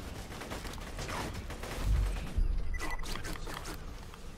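Rapid automatic fire from the Shredifier assault rifle in Borderlands 2, a dense continuous rattle of shots with a heavier burst near the middle, steady and loud throughout with no talking.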